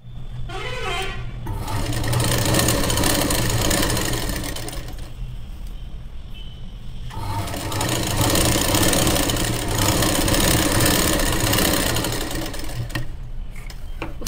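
A sewing machine stitches the waist seam of a churidar, running loud and steady in two long bursts separated by a brief pause.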